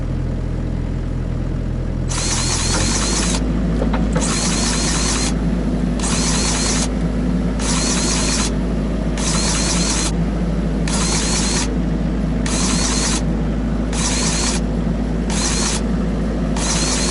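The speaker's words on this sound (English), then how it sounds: "So right there was me greasing up the swing bearing." A Dewalt DCGG571M1 20V MAX electric grease gun pumps grease into a machine's swing bearing, its motor whirring loud and close in regular on-off bursts over a constant low mechanical rumble.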